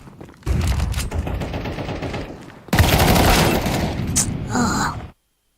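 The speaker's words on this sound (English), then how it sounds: "Throwing a flashbang." Flashbang and other utility thrown during a Counter-Strike round: dense gunfire-like crackle and bursts fill the clip, followed by a sharp high ringing burst near the end before sudden silence.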